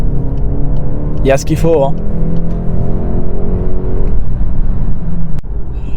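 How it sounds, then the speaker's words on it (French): A Volkswagen Golf 8 GTE plug-in hybrid accelerates on a motorway, giving a steady, close engine drone mixed with road and wind rumble inside the cabin. Someone speaks briefly over it. "Et puis, quand on a besoin d'accélérer,"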